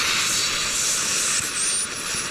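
A cutting torch burns through metal while a side offset tow hitch is being built, producing a close, loud, continuous roaring hiss with no speech over it.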